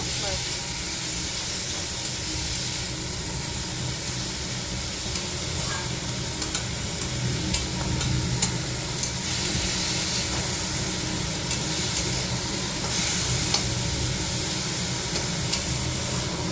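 Food lightly frying in a pan gives a steady, dense sizzle and hiss that runs throughout at an even level, with occasional stirring sounds and a voice speaking over it at times.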